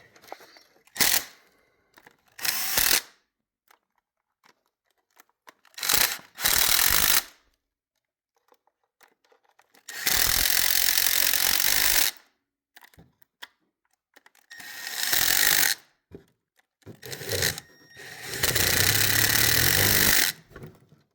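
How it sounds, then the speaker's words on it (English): Ratchet tightening bolts on a 2015 Audi Q5 engine during a PCV valve replacement: several separate bursts of rapid clicking, some brief and some lasting about two seconds, with quiet gaps between them. "let's tighten all the bolts"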